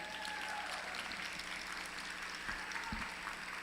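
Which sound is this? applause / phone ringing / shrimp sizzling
applause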